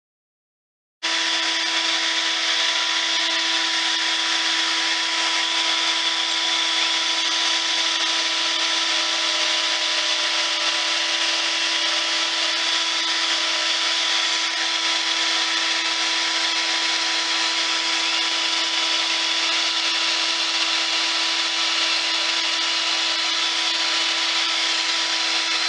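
Power drill boring pocket holes into a cedar board with a shop vacuum attached, a steady loud continuous whine and rush of suction running unbroken for the whole stretch, with no talking.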